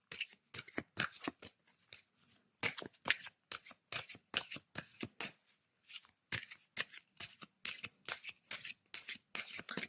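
Oracle cards are shuffled close up in quick, repeated riffling bursts with short pauses between handfuls, and no one speaks.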